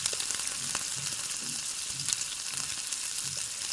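A bay leaf and cumin seeds fry in hot oil, giving a continuous quiet sizzle with light crackles and faint stirring scrapes and no talk.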